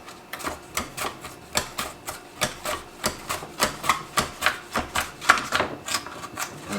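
Potatoes are sliced with a knife on a cutting board, giving a steady run of about twenty crisp, close chopping knocks at an even, brisk rhythm with no talk.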